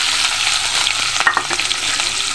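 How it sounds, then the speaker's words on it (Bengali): Onions tossed and frying in oil in a frying pan, a steady close sizzle with a few sharp clatters of stirring near the middle. "এখানে আমি এই পেঁয়াজগুলোকে একটু টস করে নেব, খুব বেশি ভাজবো না।"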